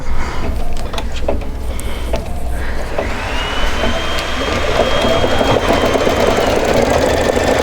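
A Baby Lock embroidery machine runs with a loud, steady mechanical whir, and a sustained whine rises partway through and holds to the end. No one speaks.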